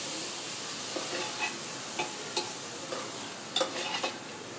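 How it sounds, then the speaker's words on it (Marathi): Masoor lentils stirred and sautéed in a pan for akkha masoor rice: a steady soft sizzle with scattered light scraping clicks of the spoon, close and fairly quiet, no talking. "मसूर चांगली परतून घ्यायची."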